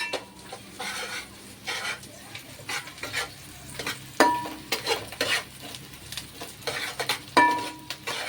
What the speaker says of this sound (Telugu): పిల్లలకి మిల్ మేకర్ వేసి ఫ్రైడ్ రైస్ చేస్తున్నాను.